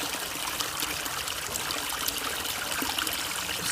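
Water streams steadily from an outlet on a manifold fed by a Jebao DC aquarium pump, a constant close trickling and splashing that holds level throughout with no talk.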